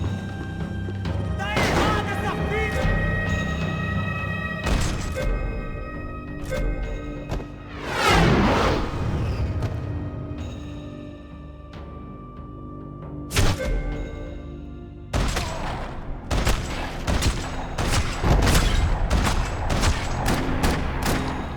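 Gunfire in the video game Max Payne 3: repeated booming shots and rattling bursts crack out over dense game music and effects, with loud impacts scattered across the sequence.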